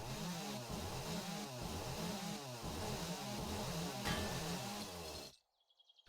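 A powered mining tool in the 7 Days to Die video game, Darkness Falls mod, grinds steadily through a block with a rapid, rhythmic buzzing whir for about five seconds, then cuts off abruptly into near silence with a few faint clicks.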